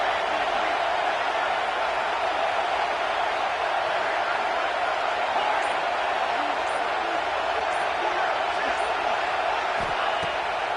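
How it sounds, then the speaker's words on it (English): Stadium crowd in an NCAA college football video game, Kansas State versus Arkansas, roaring as a steady, dense wash of noise throughout, loud and unbroken. "Listen to this crowd just shaking the girders of this place"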